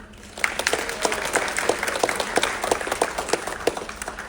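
Audience applause on a Carnival Spirit cruise ship during an Alaska sea-day onboard event, a steady wash of many hands clapping close by, with crisp individual claps standing out throughout.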